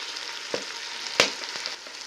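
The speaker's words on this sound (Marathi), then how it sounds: "मस्त टाकून त्याला चांगलं परतून घ्यायचं सगळं मटेरियल टाकून" Rajma pulao ingredients with fresh coriander sauté in a pan, giving a steady bright sizzle broken by a few sharp scrape-and-tap sounds of stirring.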